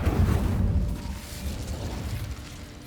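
Casting the Incendio fire spell in Hogwarts Legacy gives a whooshing burst of flame with a deep rumble that fades into a crackling, rattling tail.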